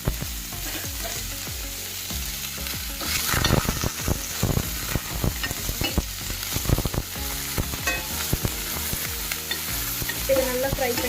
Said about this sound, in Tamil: இதை நல்லா ஃப்ரை பண்ணி விட்டுக்கலாம்.